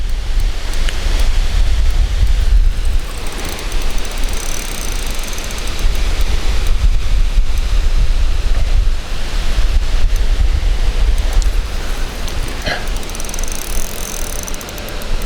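Steady wind blowing hard against the bank of a fishing lake, a continuous low rumble with buffeting on the microphone and faint lapping water, unbroken across the whole stretch with no talk.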